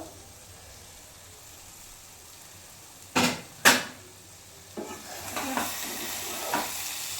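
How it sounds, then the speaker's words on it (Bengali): Butter chicken masala in a pan on low flame. Two sharp utensil clanks are followed by softer scraping strokes of stirring over a faint, quiet sizzle, with no one talking. "আবার কিছুক্ষণ পর ঢাকনা খুলে আবার নেড়ে দেবো"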